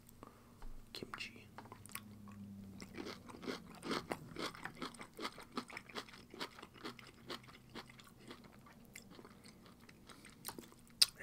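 Crunchy kimchi is eaten up close, with repeated crisp bites and wet chewing in a steady rhythm, while soft whispering drifts in and out.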